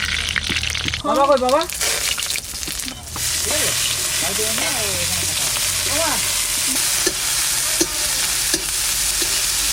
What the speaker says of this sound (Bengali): মাংসটা চাপাচ্ছি